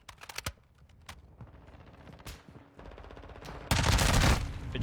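Hurricane gun fire in Warzone 2 comes as rapid automatic bursts, sharp repeated shots that start in short volleys and end in a louder sustained stream, close and without speech.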